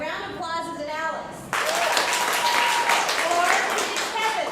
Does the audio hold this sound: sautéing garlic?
no